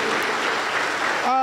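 A Pentecostal church congregation in Huancayo claps together in a dense, steady burst of applause, fairly loud and close, ending as a voice begins to speak or sing.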